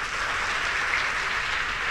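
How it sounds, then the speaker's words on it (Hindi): Schoolchildren at a girls' intermediate college applaud together, a dense, steady burst of many hands clapping with no talk over it. "बजाओ तालियां।"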